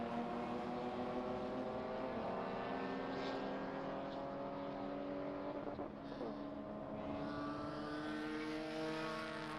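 Spec E30 race cars battling wheel to wheel on a road circuit at a NASA club racing event, engines droning steadily with layered harmonic whine, a pass or shift around midway, sustained and moderately distant throughout.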